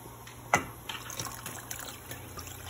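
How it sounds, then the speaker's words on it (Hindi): Water is poured into a pan for kadhi on a home stove, giving a soft, steady trickle with a brief splash near the start, faint and alone. "और हम पानी ऐड कर देंगे।"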